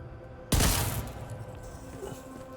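A single sharp burst of gunfire from The Division 2 hits hard and close, then decays into a rumbling tail over a low game ambience.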